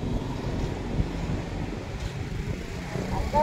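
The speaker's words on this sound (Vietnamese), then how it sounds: "chạy phát là nổ, tiếng máy nó vận hành rất là êm luôn" A Shibaura D318 four-wheel-drive tractor with a four-cylinder engine and power steering runs at a steady, even idle, a continuous low rumble mixed with wind noise across the microphone and no pauses.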